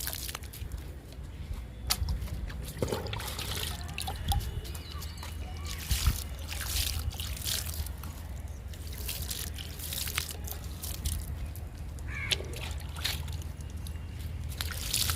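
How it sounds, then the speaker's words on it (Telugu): Liquid fertilizer poured onto okra and eggplant plants gives an ongoing trickle and splash with scattered drips and sloshes, close to the listener, as a voice speaks now and then. "బెండ మొక్కలు, వంగ మొక్కలు కూడా పోస్తున్నా."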